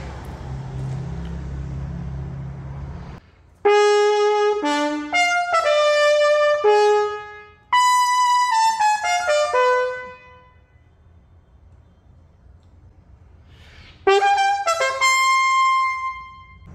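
Trumpet played with a medium-deep A2 mouthpiece, bright sustained notes and quick runs in several loud phrases separated by pauses, with a low background hum before the first entry.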